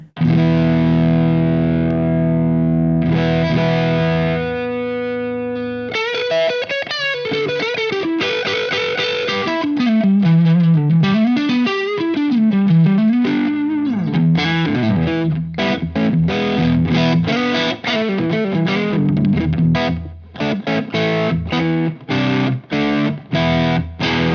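An electric guitar through a JHS Bonsai overdrive pedal on its TS10 setting plays held chords, then a gritty bending lead and choppy riffs, loud and saturated.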